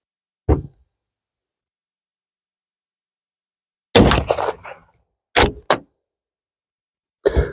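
Merkel Helix Alpinist stalking rifle fired with lead-free ammunition, followed by the straight-pull bolt being cycled: a single sharp report, then separate loud mechanical clacks, close and isolated in silence, no talking.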